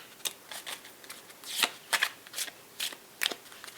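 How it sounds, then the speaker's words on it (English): Two decks of playing cards are riffled and shuffled by hand during a softly spoken card game, giving a series of crisp, close, papery flutters in an uneven rhythm, about ten bursts with brief quiet gaps between them. "let's shuffle the cards"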